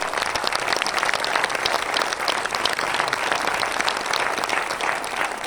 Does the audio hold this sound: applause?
yes